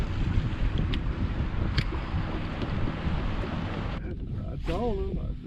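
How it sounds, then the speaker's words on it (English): Trolling motor running on a fishing boat, a steady broadband motor and water drone held throughout at close range, with wind buffeting the microphone and a brief voice near the end. "this trolling motor got some power to it too"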